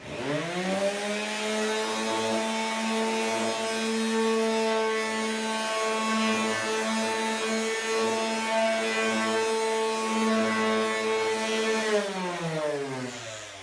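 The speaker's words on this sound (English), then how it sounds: "Now if I take my electric sander, I'm going to turn it on here for a second so you're not going to hear me." An electric sander works over painted wood furniture finished in chalk paint, a steady loud harmonic whir running continuously and close by before winding down at the end, with no talking.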